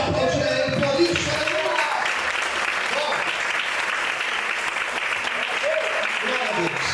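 A church congregation applauding during a sermon, continuous dense clapping close and loud throughout, with voices calling out over the applause.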